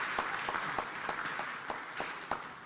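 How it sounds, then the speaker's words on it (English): Audience applause at the 4th African Inter-Parliamentary Conference fills the hall: steady, dense clapping from a large crowd with a few sharper accents, heard alone without talk. "another round of applause for the Right Honorable Speaker"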